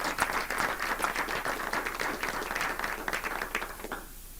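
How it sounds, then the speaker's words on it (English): Steady audience applause from a seated crowd honoring three student presentation groups at a university alumni event, dense clapping running throughout and thinning out at the very end. "One big round of applause for all 3 of our groups"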